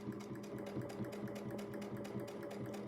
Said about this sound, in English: Try to ramp up to speed quickly so you don't get any long stitches